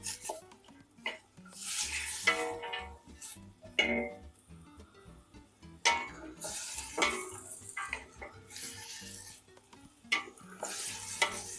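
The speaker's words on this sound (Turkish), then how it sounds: "İlk aşamamız soğanlarımızın aromasının yağ çıkabilmesi için güzelce kavurmamız gerekiyor." Onions sautéing in olive oil in a pan for kapuska, a soft steady sizzle broken by repeated close scraping and clinking stirs, with no voices.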